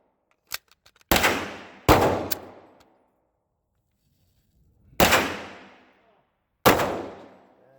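A Caracal Enhanced F pistol fires with irregular pauses between shots, giving four loud, sharp reports with brief echoing tails, preceded by a few small mechanical clicks.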